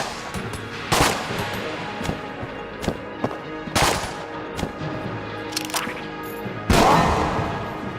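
Gunfire in the video game Enter the Gungeon: loud, close bursts of sharp shots and crackling impacts are scattered unevenly over several seconds above a constant backdrop of game noise.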